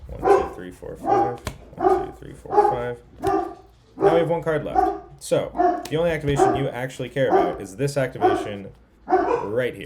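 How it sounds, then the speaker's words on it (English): Dogs bark and yip repeatedly in the background while someone talks steadily over them, the barks mixed into his speech at moderate volume. "I apologize for the dog barking."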